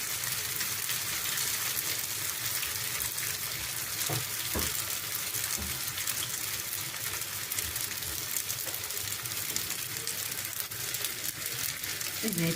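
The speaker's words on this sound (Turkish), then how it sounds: "Böyle kızarttım. Bunu da bir seferde kızartırım." Urfa-style içli köfte, bulgur meatballs, fry in hot oil with a steady close sizzle and crackle, broken by a couple of brief clinks of utensils.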